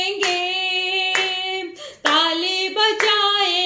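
A congregation claps in time at a Friday Hindi church worship service, sharp claps landing about once a second over loud, sustained group singing of a worship song.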